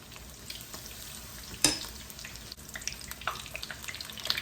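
Onion rings sizzle and fry in a pan as they are flipped, a steady close hiss with a sharp clatter partway through and small scraping sounds.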